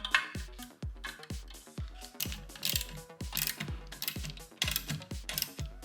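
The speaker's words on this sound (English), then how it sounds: "get my ratchet, and we're gonna go ahead and tighten everything to my comfort level" A hand ratchet tightens bolts on a Let's Roll motorcycle lift and dolly, giving quick repeated clicking strokes in a steady rhythm, close and clear with no speech.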